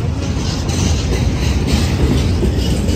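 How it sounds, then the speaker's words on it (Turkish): Steady rumbling clatter of a passenger train travelling to Adana, heard from inside with a constant loud roar of wheels on rails and no voices. "gidiyoruz trenle Adana'ya gidiyoruz şu an"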